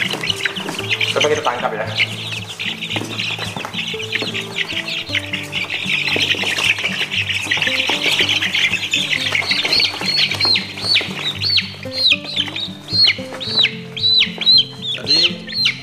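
Free-range village chickens squawk and cluck loudly and up close as they are caught, with agitated calls that grow more frantic toward the end, over background music while a person speaks briefly.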